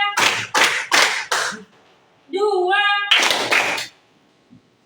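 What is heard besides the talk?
rhythmic hand clapping counted by a class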